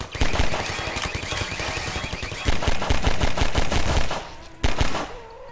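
Rapid automatic gunfire in the video game Half-Life 2, loud and close, with bursts of sharp rattling shots continuing through, pausing briefly before a final cluster.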